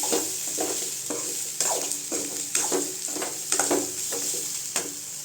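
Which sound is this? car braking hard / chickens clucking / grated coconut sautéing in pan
grated coconut sautéing in pan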